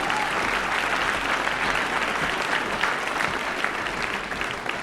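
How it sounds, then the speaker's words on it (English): Audience applause at the 2024 Aurora Prize ceremony in Los Angeles, a sustained, even wash of clapping from a large crowd that tapers slightly at the end. "We just gave him a round of applause."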